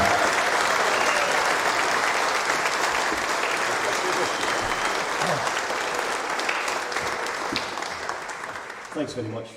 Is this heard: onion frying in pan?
no